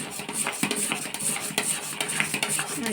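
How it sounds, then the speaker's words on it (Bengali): A utensil scrapes and stirs melting jaggery around a pan in a repeated rhythm, with light metallic knocks over a faint sizzle. "গুড়টা যাতে গলে যায় সারাক্ষণ নাড়তে হবে না হলে লেগে যাবে"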